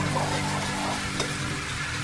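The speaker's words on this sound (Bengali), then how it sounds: "চিংড়িগুলো ভালো মতো ভেজে নেব" Prawns frying in a pan with ginger-garlic paste, a steady close sizzle with faint stirring throughout, no speech.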